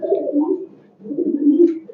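Pigeons cooing close by in a backyard coop kept alongside chickens, two low, throaty rolling coos one after the other with a brief pause between, loud and alone.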